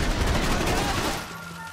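Rapid bursts of gunfire from the video game Max Payne 3, dense and loud with sustained shooting that eases off toward the end.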